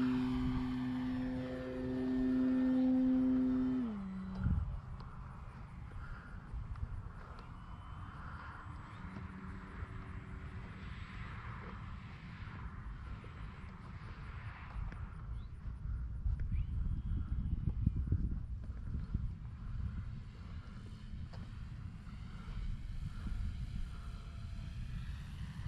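An FMS Pitts 1400mm V2 radio-controlled airplane flies outdoors, its electric motor whining steadily at a distance, rising and falling with throttle and passes, under constant wind buffeting on the microphone.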